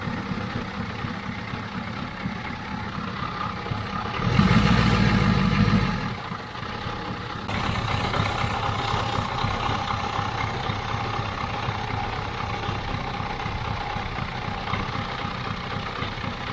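A Ford 7.3 IDI diesel dually truck engine idles in a steady low rumble, running rich on too much fuel. The rumble briefly gets louder and rougher partway through, then settles back to an even idle with no talk.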